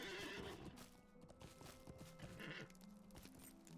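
A horse in the Lord of the Rings Online video game neighs loudly and whinnies, with clip-clopping hooves and steady game sounds underneath.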